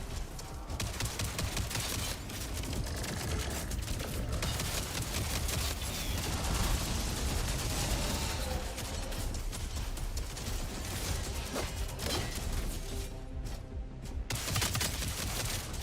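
Sustained full-auto gunfire in a video game: rapid, dense bursts of shots with mechanical clatter, loud and continuous for about fifteen seconds, with only brief pauses and no talk.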